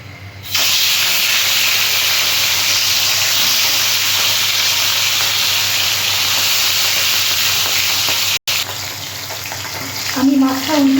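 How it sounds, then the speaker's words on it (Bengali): Fish sliding one by one into hot oil for a Bengali fish curry sets off a loud, steady broadband sizzle that holds for several seconds, briefly cuts out, then resumes with a voice speaking over it near the end. "তেলটা গরম হয়ে গেছে, আমি মাছগুলো এবার একে একে ভেজে নেব।"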